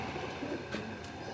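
Soft cooing of Kasuri pigeons rises and falls over a steady background hiss, close by and fairly quiet, with no talking.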